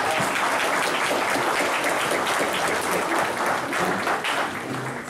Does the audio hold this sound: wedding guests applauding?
yes